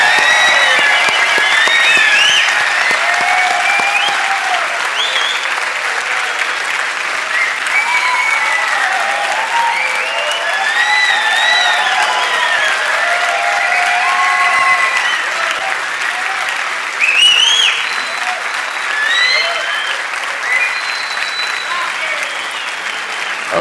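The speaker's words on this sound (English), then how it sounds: "Please give a warm round of applause for all of you." Sustained warm applause from a large audience at a university graduation ceremony, dense and continuous for over twenty seconds with a few louder bursts and faint whoops or cheers mixed in.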